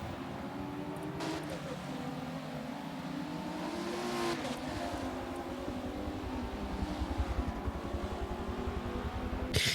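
Radical XRC race cars lapping at VIR during a sprint race, a steady loud engine drone with shifting pitch as cars pass, some nearby and some farther off, continuous throughout with no talk.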